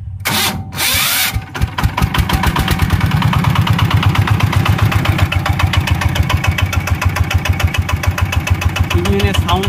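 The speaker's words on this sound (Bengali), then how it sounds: "ইঞ্জিনের সাউন্ডটাও কিন্তু খুবই সুন্দর আছে।" A Changfa R190 single-cylinder diesel engine, said to have a serious fault, cranks on its electric starter and catches, then settles into a loud, close, steady rhythmic chugging idle; a voice is heard briefly.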